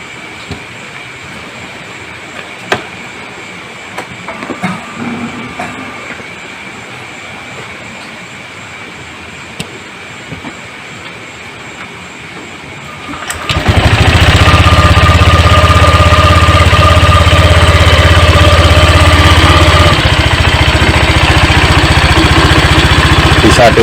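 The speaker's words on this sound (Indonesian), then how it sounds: "Setelah selesai kita rakit, kita coba nyalakan mesinnya." A car engine, being started after a repair for radiator water leaking into the combustion chamber, catches at about 13 seconds and then runs at a steady, loud idle with no talk over it.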